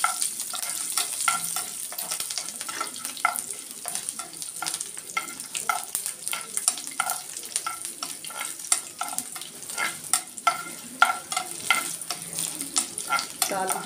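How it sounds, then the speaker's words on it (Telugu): A South Indian tempering of green chillies, curry leaves and dried red chillies frying in hot oil, with continuous close crackling and sizzling broken by quick popping bursts and stirring throughout. "తాలింపు వేగిపోయిందండి."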